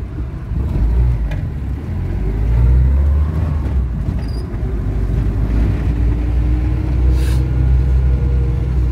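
A Dodge Caravan engine runs steadily as the car is driven, a continuous low rumble with a mild rise in revs, close and fairly loud throughout with no talk.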